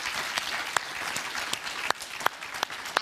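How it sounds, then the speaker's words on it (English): A studio audience at a divorce court show claps in a steady moderate round of applause, with a few sharper individual claps standing out from the crowd. "You deserve a round of applause for that."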